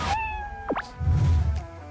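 A single clear cat meow, close and moderately loud, followed by a soft low rumble and quiet background.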